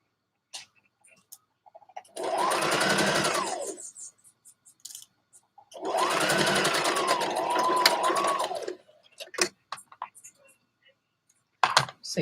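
A sewing machine stitches a single layer of thin dress fabric, its motor humming up and down in two runs of a few seconds each, with light clicks and handling noises between them.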